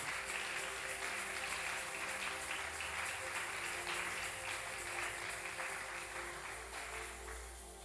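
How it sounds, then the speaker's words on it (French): A church congregation at a retreat applauding, a dense, sustained wash of clapping from a large crowd that fades slightly at the end. "On acclame très fort le Seigneur."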